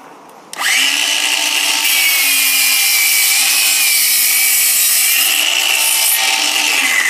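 A Dewalt DCS361B 20V cordless compound miter saw cuts laminate flooring with a brand-new blade, spinning up abruptly into a loud, steady whining roar that holds for several seconds.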